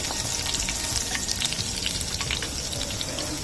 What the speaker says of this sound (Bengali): এইদিকে আমার মাছগুলো ভাজা হয়ে গেছে,